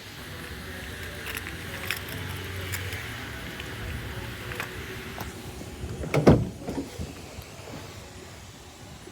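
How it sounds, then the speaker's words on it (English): A vehicle being unlocked and opened, with faint clicks and mechanical sounds leading to a louder clunk of a latch or door mid-way, set against steady outdoor background noise. "I guess it would help if I unlock the vehicle before trying to open stuff"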